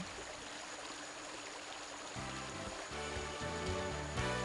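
A stream runs over rocks in the Shuangliu National Forest Recreation Area, giving a steady, close hiss of flowing water throughout, with faint rhythmic tones rising underneath in the second half.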